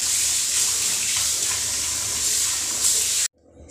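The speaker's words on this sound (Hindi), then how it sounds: "उबालने के बाद भी इसे ठंडे पानी से, रनिंग वाटर के अंदर नॉर्मल पानी से धो के साफ़ कर लेना है" Potato chips being rinsed under a running kitchen tap, a steady close hiss of flowing water that continues for about three seconds before cutting off abruptly.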